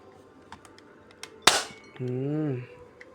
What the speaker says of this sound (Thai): เสียงสไลด์สุด แซ่บแน่นอนครับ